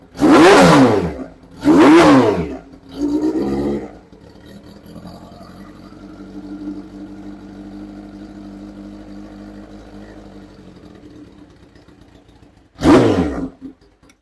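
A 1982 Kawasaki GPz 1100 motorcycle with a race baffle in the exhaust gives three loud, sharp throttle blips, settles into a steadier idle, then snaps off one more loud rev close by.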